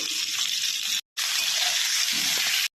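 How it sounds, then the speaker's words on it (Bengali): Eggplant pieces frying in hot mustard oil in a wok. A loud, close, steady hissing sizzle breaks off briefly, then surges back and holds. "এই তেলে আগে আমি বেগুনগুলোকে একটু ভেজে নেব।"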